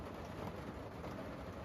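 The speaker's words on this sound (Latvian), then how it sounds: "Gāž lietus." Steady heavy rain in a forest hisses continuously, a dense even wash of noise with no voices.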